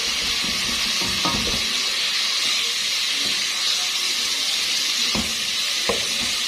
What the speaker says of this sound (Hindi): मसाला हमारा तकरीबन ये भुन चुका है।